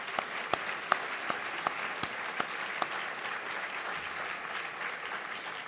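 Steady audience applause fills a dinner hall after a speech by a university president, dense clapping from many hands held at an even level with a few sharper claps standing out, and no talking.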